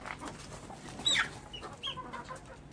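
Chickens and young chicks clucking and cheeping nearby on a farm, soft scattered calls with a brief louder squawk, quiet background.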